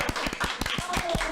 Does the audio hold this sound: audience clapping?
yes